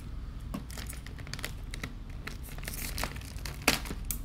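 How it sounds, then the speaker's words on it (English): Zip ties holding a hardware bag under a PLR-975 VivaLift Elegance power lift recliner are cut during setup. Faint, sparse snips and clicks mix with crinkling plastic, and no one speaks. "You have to lift up the chair and cut the zip ties holding the bag in place."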